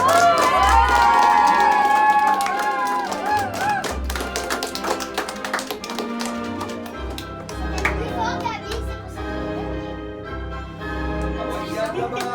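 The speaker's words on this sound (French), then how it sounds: "Et enfin, dernier applaudissement pour notre docteur" Children and families clap at a summer magic-workshop show, quick scattered claps over music and young voices, lively and close.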